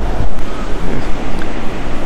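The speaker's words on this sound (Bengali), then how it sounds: "সামনে আমাদের সমুদ্র, বিশাল সমুদ্র" Ocean surf rolls in continuously at Cox's Bazar beach, a steady loud wash of waves with wind buffeting the microphone and no voices.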